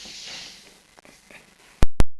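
A lid goes onto a pan in two sharp metallic clacks close together near the end, after soft rustling and quiet kitchen handling.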